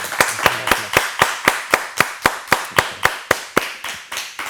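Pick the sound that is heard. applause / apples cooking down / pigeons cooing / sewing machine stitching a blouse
applause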